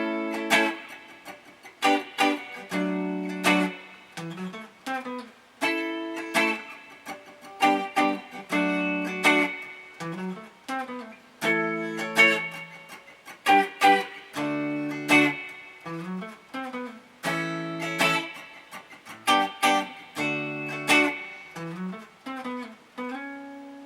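Rhythm guitar part for a song played alone and up close: full strummed chords in a steady, loose rhythm, with fills and short licks between the chord hits.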